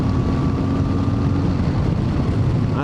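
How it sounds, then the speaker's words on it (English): A 2025 CFMOTO 450MT motorcycle engine drones steadily while riding along a road at around 60 mph, with wind rush over a constant low hum and a faint whine, continuous and close with no talk. "this engine is so nice."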